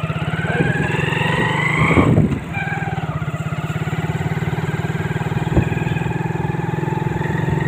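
A motorcycle engine runs steadily nearby with a low, rhythmic throb, revving briefly partway through before settling back to an even putter, at Guabari near Silchar.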